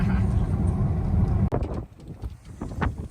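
Wind gusting outdoors beside a center pivot irrigation system, a loud broadband rush buffeting the microphone, dropping out briefly midway and then returning in uneven gusts.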